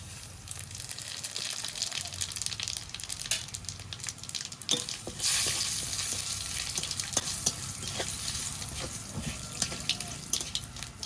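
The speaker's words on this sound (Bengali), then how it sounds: "ফোড়নে দেব শুকনো লঙ্কা, 2টো তেজপাতা ছিঁড়ে দিয়ে দিলাম, আর এখানে নিয়ে নিয়েছি একটু রাঁধুনি আর জিরে" Dry red chilli, torn bay leaves, radhuni and cumin sputter in hot oil, a close, continuous crackling sizzle with sharp pops and a brief louder burst of spitting partway through, no voices.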